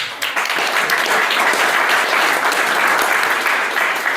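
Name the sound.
audience round of applause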